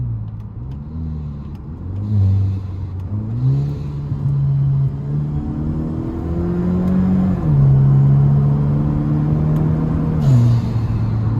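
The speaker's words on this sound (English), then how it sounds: "I know y'all hear that downshift though." A car engine revs and drops through gear downshifts while driving, a steady loud rumble with stepped pitch changes as the gears change, close and continuous with no talking.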